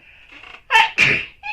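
A single close, sharp sneeze, a quick intake and a forceful burst, followed by a brief breathy aftersound.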